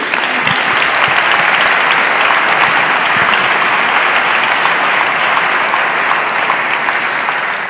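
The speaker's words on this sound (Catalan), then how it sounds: "Un aplaudiment, gràcies." An audience at a business anniversary event gives sustained, dense applause that holds steady and loud for several seconds, with no talking over it.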